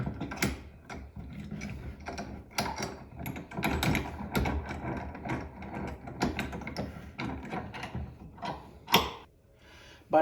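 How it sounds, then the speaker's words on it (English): A Bessey clamp is ratcheted tight against kitchen cabinets during installation, giving a close run of clicking, grinding mechanical bursts with brief pauses and a sharp final knock. "So I'm gonna put now my clamp."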